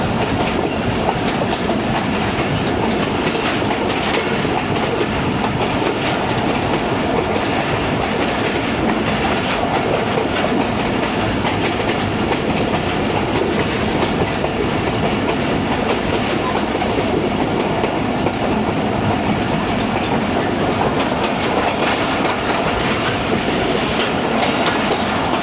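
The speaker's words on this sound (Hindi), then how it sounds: "ट्रैक साउंड बहुत कमाल की हैं, तो ये ट्रैक साउंड्स को एंजॉय करें" A shuttle train on a morning branch line from Multan Cantt to Kot Addu Junction, its wheels clattering steadily over the railway track at slow speed, loud and continuous from on board for the whole stretch.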